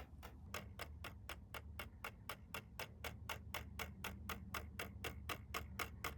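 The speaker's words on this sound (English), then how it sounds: "Can you hear that ticking? You hear it? The clock in this thing is loud as shit." The dashboard clock in a 1974 Dodge Monaco gives off a loud, steady mechanical ticking, about four evenly spaced ticks per second over a low cabin rumble, with no talk.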